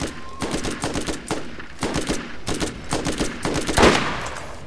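Rapid gunfire from the Borderlands video game, dense repeated shots and bursts running throughout at steady loudness, with a heavier blast near the end.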